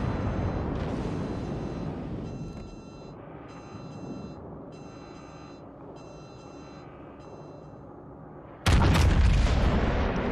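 Yamato battleship main guns in the World of Warships naval game: a low, steady rumble of battle ambience that suddenly erupts into one loud, deep booming blast near the end.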